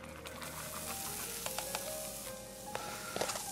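Onions hitting a hot pan of olive oil and foaming butter give a steady, close frying hiss, punctuated by a few sharp crackles and light spoon scrapes, with no talking.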